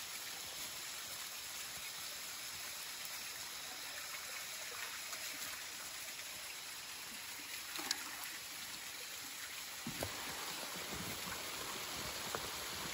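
Small mountain stream flowing beside a trail, a soft, steady rushing and trickling of water heard close by and alone, with a couple of faint knocks near the end.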